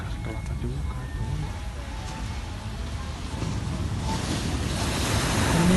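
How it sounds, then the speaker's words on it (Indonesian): Waves wash steadily onto the sand at Jimbaran beach in Bali, with a continuous broad surf roar and gusts of wind noise that swell louder toward the end. "ini suasana di deket pantai Jimbaran ya."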